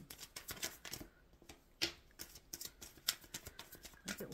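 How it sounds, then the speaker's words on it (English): Tarot cards are shuffled in quick, soft riffling bursts with light taps, close by and fairly quiet; a single word is spoken briefly. "Shuffling for the collective, Spirit."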